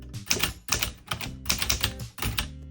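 A 1925 Corona Four typewriter clacks as its keys are struck in about six uneven, close-up bursts, each a sharp mechanical strike, fairly quiet and with no talking.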